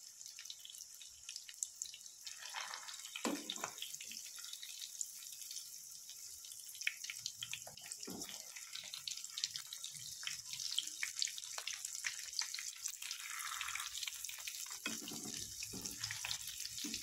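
Rava-coated surmai fish fries in a pan, a soft continuous sizzle with scattered crackles and a few light clatters, faint and without talk.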